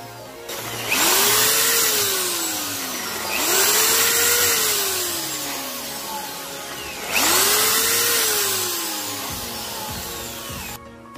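A power drill bores holes in a power bank case for a switch and LED, whining loudly in three separate bursts, each spinning up and biting through, with short pauses between.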